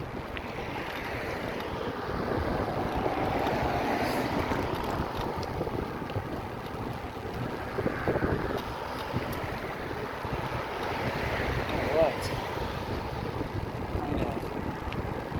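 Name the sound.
waves breaking on the Gulf shore with wind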